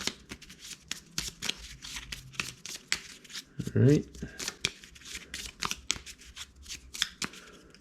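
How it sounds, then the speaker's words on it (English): A deck of target cards for a Stuka Leader Stalingrad 1942 board game is shuffled by hand in quick riffling bursts, close by, while a person speaks briefly over it. "We're going to have to shuffle up our target deck."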